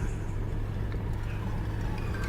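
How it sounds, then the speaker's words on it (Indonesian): Steady low drone of a car engine and road noise inside a moving car on a toll road at night, continuous and even, with no talking. "Hanya suara deru mesin mobilku di jalan tol ini."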